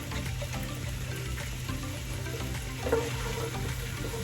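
Ginger fries in a pan, giving a steady, moderate sizzle that holds evenly throughout, with a faint stirring scrape near the end and no talk.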